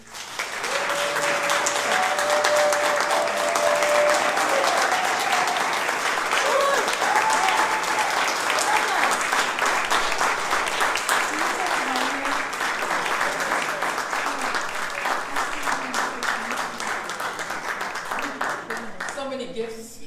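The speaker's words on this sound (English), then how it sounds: "Can we give them a round of applause, please?" Steady, full applause from a congregation at a spiritual center welcomes new members, sustained dense clapping lasting many seconds before gradually thinning toward the end.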